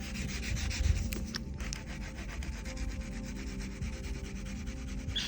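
Waxy crayon shading over paper to fade a brick wall in an architecture drawing, a close, steady rhythmic rubbing of quick back-and-forth strokes, continuous and without talk.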